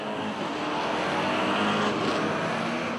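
NASCAR Whelen Euro Series race cars roar around the Monza circuit, a loud continuous engine drone that sweeps past without any voices.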